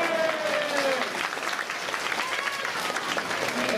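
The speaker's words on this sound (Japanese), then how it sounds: "みんな拍手してくれ。" An audience at the Turtle Talk show in Tokyo DisneySea breaks into steady, dense applause that fills the room, with a voice briefly audible over the clapping near the start.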